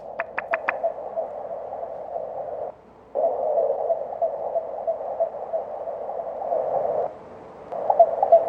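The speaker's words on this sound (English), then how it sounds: "these crop circle tones, we'll just play for a moment" Crop circle tones are played back from a recording: a few quick rising chirps, then sustained warbling electronic tones that drop out briefly and return, steady and fairly loud with no voices.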